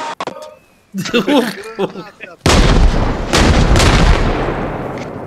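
Grenade detonation in the military shooter Arma Reforger, a loud, sustained blast that rumbles and decays for several seconds after a stretch of voices talking.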